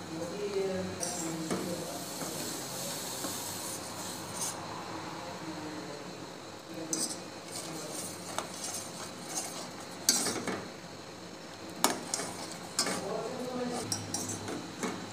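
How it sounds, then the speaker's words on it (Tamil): A utensil stirs chocolate melting in a pan while making chocolate ice cream, with light scraping and occasional sharp metallic clinks against the pan, intermittent and close, over faint background hiss. "அந்த சாக்லேட் உருகிற வரைக்கும் நீங்கள் கலக்கிட்டே இருங்க"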